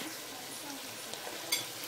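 Onions, garlic and peppers fry with meat in a pan for a Turkish güveç, giving a steady, soft sizzle under a few light stirring scrapes and one small metallic clink, close and fairly quiet.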